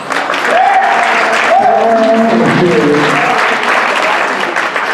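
Keynote audience at a WordCamp conference in Seattle applauds steadily and loudly for the full stretch, with a voice speaking over the clapping.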